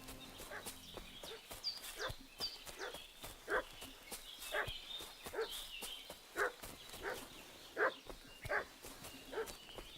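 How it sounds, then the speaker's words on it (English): A dog barks repeatedly in a medieval village setting of the Kingdom Come Deliverance 2 game, steady regularly spaced barks at moderate distance over ambient background with birdsong. "What's that dog making such a fuss about?"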